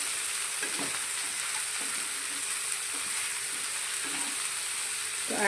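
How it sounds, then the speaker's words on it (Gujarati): Brinjal and valor beans are stirred in oil in a kadai, with a steady bright sizzle and spoon strokes scraping the pan about once a second, close and without talk. "બધા શાકને આપણે તેલની સાથે સારી રીતે મિક્સ કરી લઈશું"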